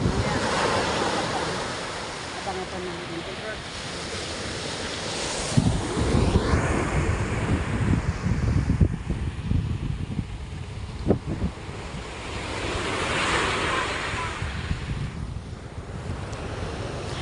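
Sea waves wash onto the shore beside a boat being hauled, with steady surf and wind buffeting the microphone, and a brief voice speaking over it.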